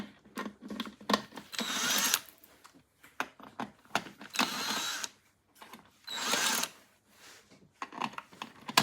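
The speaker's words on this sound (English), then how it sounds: "And I might just use a drill quickly." A power drill backs T25 bolts out of a Harley-Davidson Twin Cam 96, whirring in several short loud bursts separated by pauses and small clicks of handling, with no talk.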